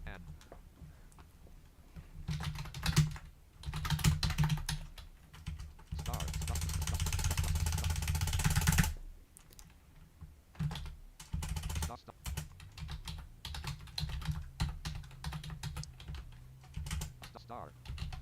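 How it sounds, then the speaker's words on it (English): Fingers clatter on a computer keyboard in rapid, uneven bursts of close keystrokes, broken by pauses, with a longer steady noise in the middle and a voice murmuring at times. "It ain't my fault that I can't type."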